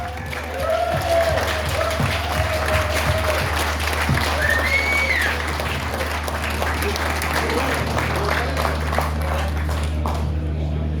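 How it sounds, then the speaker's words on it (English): An outdoor crowd at a motorbike race circuit's Honda festival gives a sustained round of applause, with a low steady hum and a few voices underneath. "So a massive round of applause, please, for Mick Grant."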